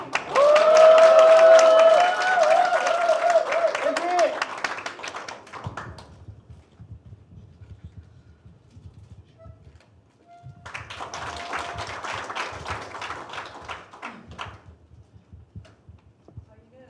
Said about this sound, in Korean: 박수 소리가 작은 것 같습니다